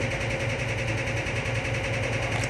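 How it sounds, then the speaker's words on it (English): A home washing machine running loudly through a spin, a steady droning hum with rhythmic pulsing, close and continuous with no talk. "my washer's about to go crazy and get loud"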